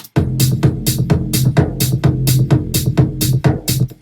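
A sub-heavy rolling kick is layered into a dark electronic track, thumping in a fast, steady repeated pattern with bright transient hits on top, loud and up front.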